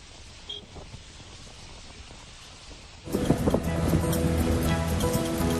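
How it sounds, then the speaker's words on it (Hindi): Strong storm wind and heavy rain roar over Delhi and the NCR, a steady rushing wash that swells sharply louder halfway through and stays loud. "फिर जोरदार आंधी और बारिश।"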